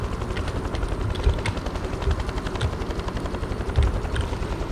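A video game helicopter's rotor thumps steadily throughout, a dense chopping drone with occasional sharper bangs, like gunfire, cutting through.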